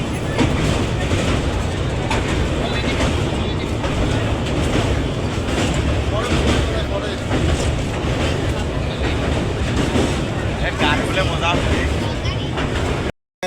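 Long passenger train travelling through hilly country toward Odisha, a loud, steady rumble and rattle of rail cars heard from on board, continuous for the whole stretch with a faint voice mixed in.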